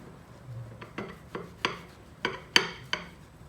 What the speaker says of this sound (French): Allez, on va essayer de couper des mini parts.